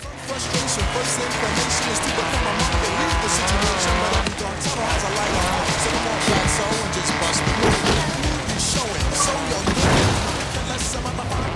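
A car drifts in the Forza Horizon 3 racing video game, with a loud, continuous engine roar and sustained tire squeal and skidding that fill the whole stretch, shifting pitch as the car slides.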